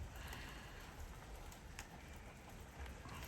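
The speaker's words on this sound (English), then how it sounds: "It's just starting to rain, lovely. Summer rain in the afternoon." Summer afternoon rain just beginning, a steady soft hiss of drops pattering on surfaces, fairly faint and even throughout with a few slightly sharper taps.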